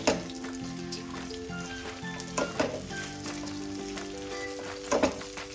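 Stuffed okra sautés in oil in a pan, giving a steady sizzle with intermittent stirring scrapes and clinks, close and moderately loud, under a faint musical background.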